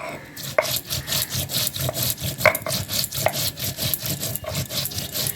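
Rhythmic scraping and grinding of stone on stone, steady back-and-forth strokes crushing a wet paste of herbs and green chillies, close and continuous, no voices.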